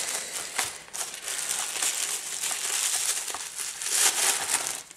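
Small pouches and packaging from a beauty-product box being unwrapped, with continuous close crinkling and rustling throughout, no speech.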